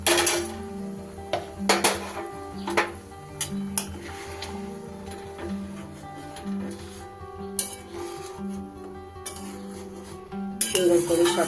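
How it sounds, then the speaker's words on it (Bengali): A spoon stirs a spiced green banana mixture in a pot after hot water has been poured in, making irregular metallic clinks and scrapes against the pot over a low kitchen background. "সুন্দর করে সবকিছু মিশিয়ে দিলাম।"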